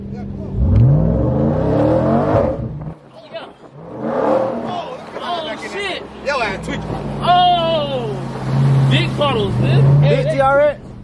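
A Ram TRX pickup truck engine revs and roars on a flooded trail, rising and falling under excited voices shouting and talking close by.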